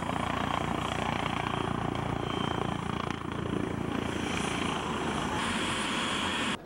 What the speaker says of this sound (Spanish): si el helicóptero bajó bien bajo